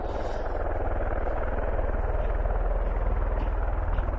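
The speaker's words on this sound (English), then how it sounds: "you can certainly hear the sound of those wonderful V22 Ospreys" V-22 Osprey tiltrotor aircraft at an airfield producing a loud, steady rotor throb with a deep rhythmic low-frequency pulsing and broadband roar, continuous throughout and close by.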